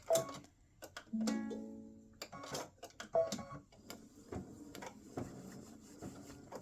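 An embroidery machine stitching the hanging loop on a freestanding lace Christmas bow earring, giving a steady run of close mechanical clicks and needle taps with brief pauses between stitch bursts.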